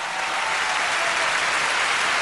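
Steady, dense applause from the audience at the Sang San Awards on Channel 7, a continuous wash of clapping with no breaks.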